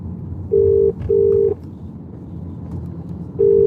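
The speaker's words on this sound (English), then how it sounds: "let's try and phone him again. Let's see if he goes through now." A phone call rings out on the line: steady, clear electronic tones, each lasting about half a second, sound in a repeating pattern separated by gaps, over a faint low rumble with no talking.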